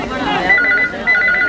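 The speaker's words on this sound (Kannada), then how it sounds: "ನಿನ್ನ ಫೋನ್ ಬಂದಿದೆ ಕಣ" A telephone ringing in a home setting, trilling in two short electronic bursts under ongoing voices and room noise.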